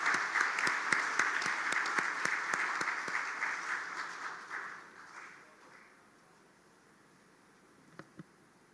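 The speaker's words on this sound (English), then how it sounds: "So congratulations and a big applause." Conference delegates at a civil aviation directors' meeting clap in a moderate burst with distinct individual claps, tapering off over about five seconds into quiet room tone, with a couple of stray taps later.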